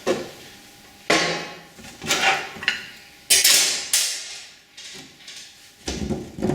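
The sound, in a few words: plastic appliance lid being handled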